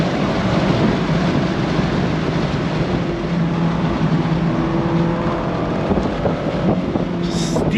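A 2025 Mazda MX-5 Miata sports car engine revs steadily toward redline from inside the cabin, a loud continuous drone with rising harmonics and no voices.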